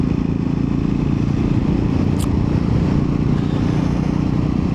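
Steady, loud engine drone from a Triumph Scrambler 400X motorcycle being ridden, a continuous low rumble with wind noise holding level throughout and no talk.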